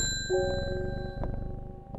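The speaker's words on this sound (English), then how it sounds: "Ring the bell." A bell ringing in the video game Strange Horticulture: a single clear ding with a sustained, gradually decaying ring, alone and fairly close.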